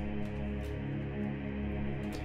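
An 8Dio Insolidus sampled choir holds a dense, spooky open fifth, swelling steadily with modulation in a big orchestral trailer style, sustained throughout with faint airy breaths on top.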